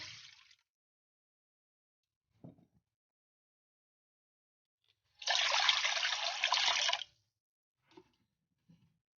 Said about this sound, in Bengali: আর একটা কড়া নিয়ে নিয়েছি ওতে জল দিয়ে দেবো